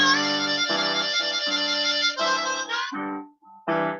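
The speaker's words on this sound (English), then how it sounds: "So we're going to do a lot of warbling in this line." A harmonica plays a wavering, warbling blues lick, rapidly alternating between notes with a few short breaks, close and clear.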